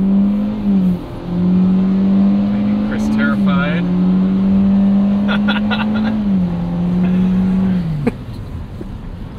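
A 2022 Hyundai Venue's engine revs up and holds a steady drone through most of the clip, then drops off sharply near the end, with a voice speaking briefly over it.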